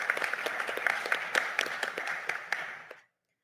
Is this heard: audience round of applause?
yes